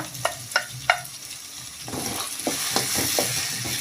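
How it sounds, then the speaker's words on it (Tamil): Peas, chopped carrots and beans being stirred and sautéed in hot oil: a few sharp scraping stirs at first, then a steady soft sizzle with more spatula scrapes over it. "நம்ம எடுத்து வச்சுருக்கிற பட்டாணி, கட் பண்ணி வச்சுருக்கிற கேரட்டு, பீன்ஸ் எல்லாம் சேர்த்துக்கலாங்க. சேர்த்துட்டு நல்லா வதக்கி விட்டுக்கலாம்."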